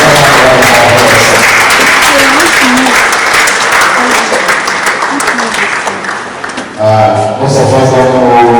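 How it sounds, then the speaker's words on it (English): Audience at a business summit breaks into loud, sustained applause filling the room, with a brief dip before clapping swells again and some voices underneath. "I will give our second round of applause."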